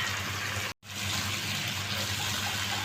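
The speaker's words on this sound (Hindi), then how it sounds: "तो थोड़ा सा पानी शामिल कर देंगे" Water pours in a steady rush into masala frying in a pan for chana chaat, a close, continuous hissing gush broken by one brief gap near the start.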